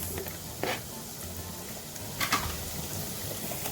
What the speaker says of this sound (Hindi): ये देखिए मैंने इसमें सॉसपैन में 2 टेबलस्पून ऑयल डाला है और अब इसमें मैं डाल रही हूँ एक मीडियम साइज का प्याज